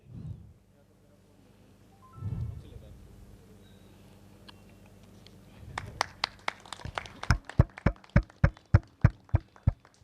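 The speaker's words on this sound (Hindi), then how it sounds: "थोड़ी सी तालियों में कंजूसी ना करें क्योंकि ये उत्साहवर्धन बहुत जरूरी है दोस्तों" Applause at a seminar in a Jaipur restaurant starts quietly after low murmurs, then turns into loud, evenly spaced rhythmic claps that build steadily through the second half.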